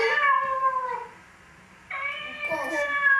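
A cat meows twice, a drawn-out high meow, a short pause, then a second longer, wavering meow, close and clear.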